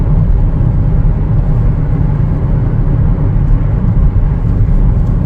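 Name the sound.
2025 Chevrolet Trailblazer LT accelerating quickly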